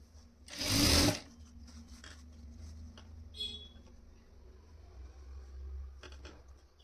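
A sewing machine stitches a Nauvari-style blouse for a 4-5 year old girl: one short, loud, close run of stitching, then a low hum with faint clicks.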